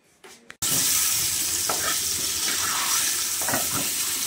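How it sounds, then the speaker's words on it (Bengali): Potatoes set to fry in a pan: after a quiet moment with faint handling, a loud continuous sizzle bursts in and holds steady, with occasional soft stirring scrapes over it. "এদিকে আলুগুলো ভাজতে বসিয়ে দিলাম"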